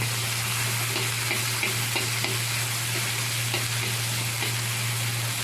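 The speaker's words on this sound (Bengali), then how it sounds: "এটা একটু ভেজে নেবো তেলের মধ্যে। আর দিয়ে দিচ্ছি কেটে রাখা টমেটো।" Chopped tomatoes, along with ginger-garlic paste, fry in oil in a pan for an okra curry. The sizzle is a steady, dense crackle with a low hum underneath and a few faint stirring clicks, and no voices.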